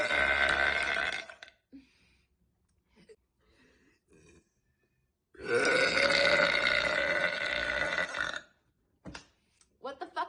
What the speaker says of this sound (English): No way you can burp that loud.